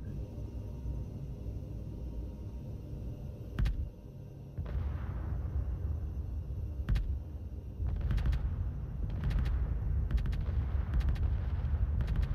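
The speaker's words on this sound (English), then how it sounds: "It just fires off huge amounts of rounds in a general vicinity of something." An anti-missile flak weapon in the video game Space Engineers fires rounds as a continuous low rumbling barrage, with sharper bursts and cracks of fire breaking through at intervals.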